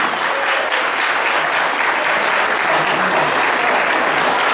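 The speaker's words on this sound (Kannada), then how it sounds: "ಎಲ್ಲರೂ ಮತ್ತೊಮ್ಮೆ ತಮ್ಮ ಕರತೊಡನೆ ಚಪ್ಪಾಳೆಯಿಂದ ಜೋರಾಗಿ ಎಲ್ಲರನ್ನು ಅವರನ್ನು ಪ್ರೋತ್ಸಾಹಿಸಿ." An audience at a Kannada community skit about Ganesha claps loudly for the performers, a thick, sustained roar of applause filling the hall without letting up.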